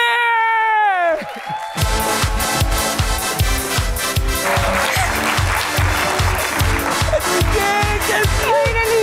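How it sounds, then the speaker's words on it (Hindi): Large studio audience at a Pakistani television talk show bursts into loud, sustained applause with rhythmic clapping, cheers and whoops, following a brief sung musical phrase, filling the room continuously. "तो इतनी तालियां बजाएं कि मैं भी कहूं कि ये कर क्या रहे हैं।"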